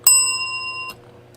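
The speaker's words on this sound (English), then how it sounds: "Give you a bell for that." A single bright bell ding, like a bicycle bell, rings close and clear, then fades and stops after under a second.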